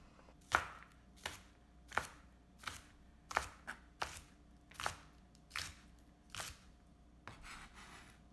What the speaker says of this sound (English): we're going to slice the bottom part of the green onions into small pieces